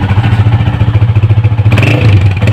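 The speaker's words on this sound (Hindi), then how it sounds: "इसी तरीके से साइलेंसर का साउंड आपको चेक कराते हैं।" A Honda CG125 motorcycle idles close by, its engine and silencer giving a steady low, throbbing exhaust putter with mechanical clatter, rising briefly in a light rev near the end.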